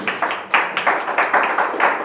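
A church congregation applauding during a Portuguese-language evening service, about ten quick, fairly loud bursts of hand clapping in an uneven rhythm over two seconds.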